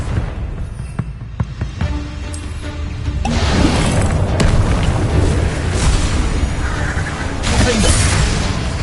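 A Confringo explosion spell goes off in the video game Hogwarts Legacy, a loud burst that swells into a sustained booming roar and rumble layered with game effects, with no voices.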